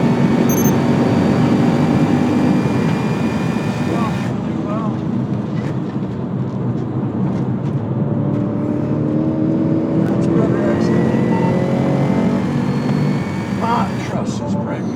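Tesla Model S Plaid electric sedan lapping a racetrack, a steady loud drone of road and motor noise with rising whine tones as it accelerates, continuous throughout with no talk.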